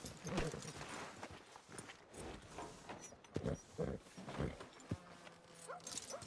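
Horse hooves in Red Dead Redemption 2, faint irregular clip-clops and stamps mixed with animal snorts and rustle, some low voice-like sounds in the background.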